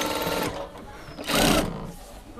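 A sewing machine stitches a dress collar neckline, running in close, steady whirring bursts with a louder, faster stretch near the middle, while a voice speaks quietly underneath.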